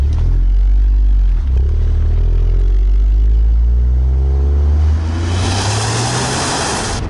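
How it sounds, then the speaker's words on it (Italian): A DS 3 three-cylinder petrol engine runs with a deep, loud, close drone that rises in pitch as it revs, the hum growing rougher and brighter toward the end, with no talk. "Anche il sound, devo dire che non è male per essere un 3 cilindri"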